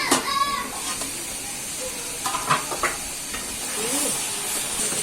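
Food sizzles and hisses steadily in a pan at close range, a constant frying hiss with a few brief clinks and stirring clatters over it.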